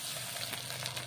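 Chopped tomatoes sizzle in a pan while being stirred, a brief close burst of bright frying hiss with faint crackles.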